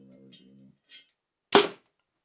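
A Bear Prime Divide 31 compound bow fired during a noise test gives one sharp, loud thwack near the end, following a faint low hum and brief soft ticks.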